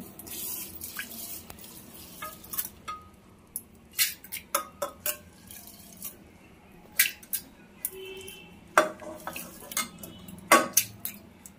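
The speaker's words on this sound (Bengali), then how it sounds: "প্রেসার কুকারটা বন্ধ করে দিলাম, বসিয়ে দিলাম" A pressure cooker holding dal with water is closed and set down, giving sharp metallic clanks and knocks of lid and pot, irregular and close, with quieter rattling between.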